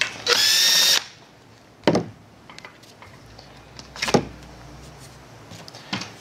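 A power drill backs screws out of the foot of a laser-level direct-reading measuring rod: one loud whirring burst of about a second, then brief clicks and knocks of handling at intervals, close by and with no talk.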